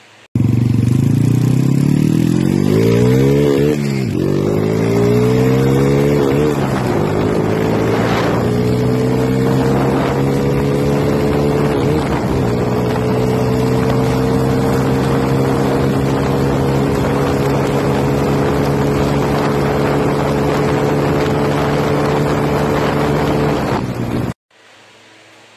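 A Yamaha T50 moped converted to 80cc with a 51mm cylinder revs hard and drones steadily at high pitch as it passes, changing tone as it shifts, then cuts off abruptly near the end; no talking.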